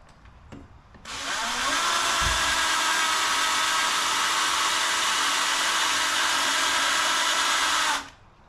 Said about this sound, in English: I'm going to need to drill it in to make it fast